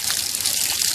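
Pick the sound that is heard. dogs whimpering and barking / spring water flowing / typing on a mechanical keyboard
spring water flowing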